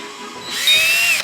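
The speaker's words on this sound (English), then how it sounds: "we just got to drill the next hole in" A power drill whirs up to speed and bores a hole for a sink fitting on a narrowboat, with a rising, high-pitched whine, close and loud.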